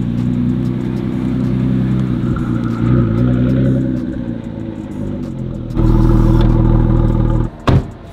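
A Ford GT Heritage Edition with a V6 engine idles with a deep, steady rumble, then revs up briefly. It swells louder for a sustained rev before cutting off abruptly near the end.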